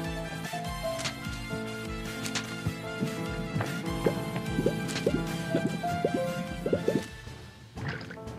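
Water splashing in the ocean in the video game Human Fall Flat: a run of wet drips and sloshing splashes, some louder plops, coming in uneven bursts over a low background.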